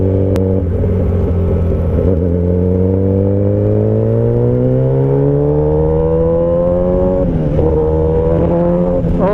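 Kawasaki Ninja ZX-10R superbike engine pulling hard while being ridden, a loud, steady rising drone that climbs smoothly in pitch through the gears, with a brief shift dip near the end.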